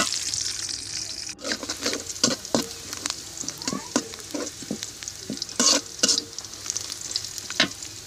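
Chopped onion and spinach, with salt and green chilli, fry in a kadai for hilsa curry: loud, close sizzling broken by repeated sharp spatula scrapes and stirring strokes at an uneven pace.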